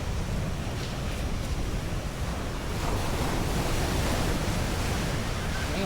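Strong sea waves wash steadily onto the shore near a breakwater at Kemaman, making a dense, continuous rushing roar mixed with wind buffeting the microphone, with no voices.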